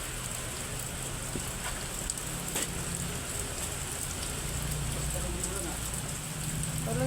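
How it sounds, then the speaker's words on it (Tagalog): Heavy typhoon rain pours steadily behind a house, a dense continuous hiss with occasional louder drops and thumps, with no letup throughout. "Tuloy-tuloy na nga yung ulan eh."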